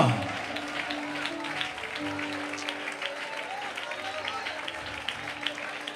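A congregation at a Malayalam Christian sermon bursts into applause, a spread of many hands clapping at moderate distance, while a preacher's amplified voice carries on over it.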